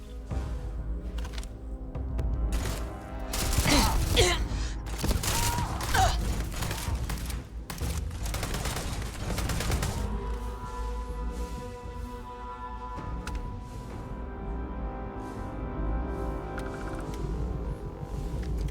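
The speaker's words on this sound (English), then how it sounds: "Throwing grenades inside your own station." Grenade blasts go off inside a space station in the sci-fi game Starfield, a cluster of loud, booming bursts in the middle stretch, with dense combat noise around them and a quieter, humming ambience afterward.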